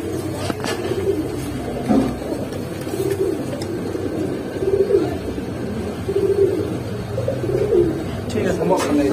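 Giribaz and pangkhi pigeons coo in repeated soft, low rolling calls close by, under intermittent talk.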